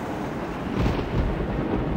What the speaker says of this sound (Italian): Da dove arriva questa orrida tempesta?